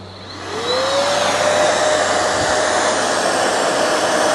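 A WORX cordless 3-in-1 wet/dry vacuum and blower on battery power spins up within the first second, then holds a loud, steady whining roar with a high motor tone, close to the microphone.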